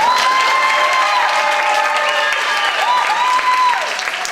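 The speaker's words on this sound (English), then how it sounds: "Give them a round of applause." A large audience applauds and cheers steadily after a high school symphonic band performance, a dense, loud wash of clapping with a sustained tone ringing underneath.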